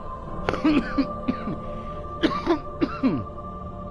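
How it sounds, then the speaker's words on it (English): A person who is a bit under the weather coughs and clears their throat several times in short bursts, close to the microphone, over a steady hum from a video game. "I'm sorry if the coughing bothered you."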